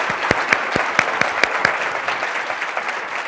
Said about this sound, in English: Please, a round of applause for Linda.